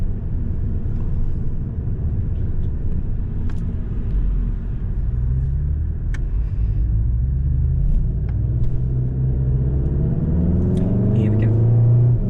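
A car accelerates on the Nürburgring track, heard from inside the cabin as a steady loud engine drone that rises in pitch toward the end as revs build.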